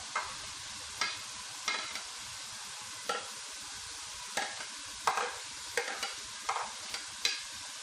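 Chopped vegetables with tomatoes and onions are stirred in a frying pan, giving quiet, irregular scraping stirs roughly every second over a soft, continuous sizzle.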